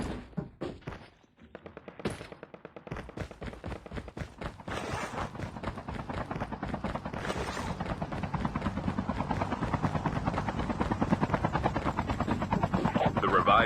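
An airdrop aircraft passes overhead in Call of Duty Mobile battle royale. A rhythmic rotor-like drone swells and stays loud, with sharp gunshots early on.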